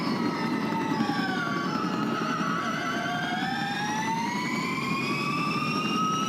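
Romain Dumas' electric race car climbs Pikes Peak during the 2024 hill climb, its high electric-motor whine rising and falling steadily through the run, loud and close with no talk.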